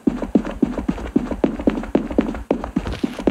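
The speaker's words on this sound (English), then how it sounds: "Footsteps." Footsteps in the mobile shooter Pixel Gun 3D tap out a quick, steady rhythm of close, evenly spaced thuds without pause.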